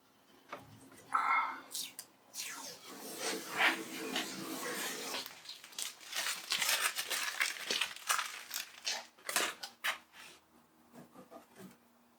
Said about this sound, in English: So what I'm going to do is peel this tape off here.